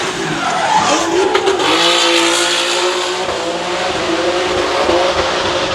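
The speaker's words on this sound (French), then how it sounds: "Voiture très de travers." A car slides sideways in a drift, tyres squealing loudly and continuously over a revving engine, close and intense throughout with the pitch wavering as the slide goes on.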